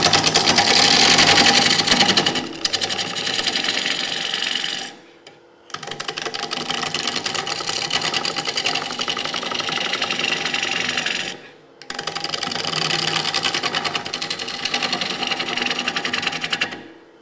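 Wood lathe rough turning a live edge bowl, a steady close gouge-cutting rasp running in three long stretches separated by brief pauses, no voices.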